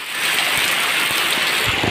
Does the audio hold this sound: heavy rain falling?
yes